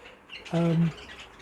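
A pet show bird gives a single short, bright chirp of under half a second, close and clear against a quiet room.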